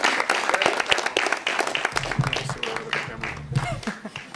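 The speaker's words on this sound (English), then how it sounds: "A round of applause for this." Audience applause at an action film festival Q&A screening, a dense patter of many hands clapping throughout, with voices talking over it.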